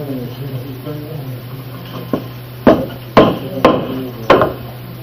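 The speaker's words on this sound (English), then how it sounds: "Let me find my hammer." A hammer drives a nut onto a squat coil spring: about five sharp, close blows ring out in an uneven rhythm, following a few seconds of quieter background sound.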